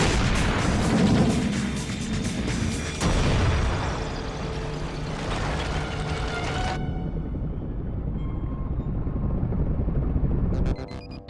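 A cartoon underwater explosion set off against a submarine booms loudly, then a dense rumbling roar follows and fades.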